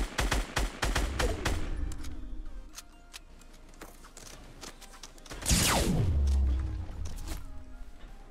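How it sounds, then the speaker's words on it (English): Rapid bursts of gunfire from a Fortnite Battle Royale match crack out in a quick close volley, then thin to scattered shots, and a loud boom or whoosh lands near the middle. "The Dark Knight kept shooting"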